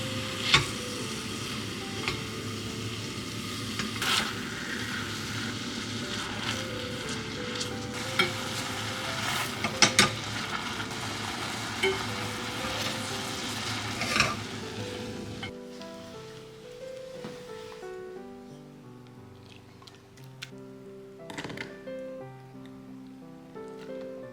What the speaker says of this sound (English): Simmer until all the liquid is gone